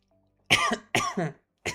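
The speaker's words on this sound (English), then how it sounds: "Sorry about the coughing, by the way." Three bursts of coughing from a dry, itchy throat, close and fairly loud, the second a double hack, with short quiet gaps between them.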